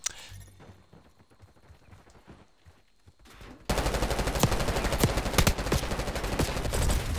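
Call of Duty gunfire bursts in loudly partway through, dense rapid shots continuing to the end after a quieter stretch of game noise.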